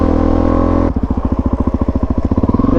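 A Suzuki DR-Z motorcycle engine runs loud and close during a small wheelie, a steady drone that drops into a fast, even chugging pulse as the front end comes back down.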